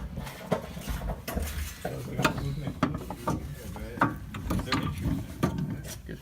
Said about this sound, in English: Unscrew that bolt in the very top.